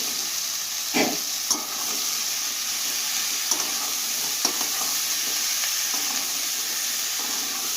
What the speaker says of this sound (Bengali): কষানো হয়ে গেছে, এবার চানাটা দিয়ে দিচ্ছি।